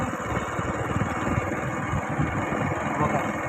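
A motorcycle engine drones steadily while riding on a road, a continuous buzzing hum with wind rumble and no clear talk.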